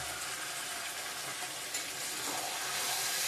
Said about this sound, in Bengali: ভিজে রাখা আলুটাও দিয়ে দেবো এখন,